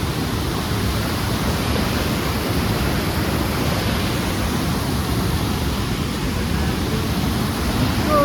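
A dense, roaring rush of falling water at Sundarijal waterfall, Nepal, where dozens of people are swimming, fills the scene at a constant loud level, with no distinct voices standing out.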